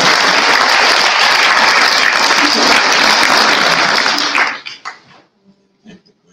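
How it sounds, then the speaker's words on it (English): A congregation at a memorial service applauds loudly and steadily for several seconds, then the clapping breaks up into a few scattered final claps and fades. "So let's start to clap."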